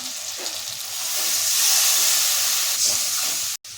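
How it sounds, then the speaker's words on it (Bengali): Spices in a pan with oil and a splash of water give off a loud, steady frying sizzle and steam hiss that swells and holds for a few seconds, then cuts out briefly. "মশলাটাও ভালো করে কষে নেব তেল ছাড়া অবধি"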